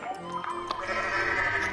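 A goat in a video game bleats in a few short, wavering cries over a low background hum, fairly faint and with no talk over it.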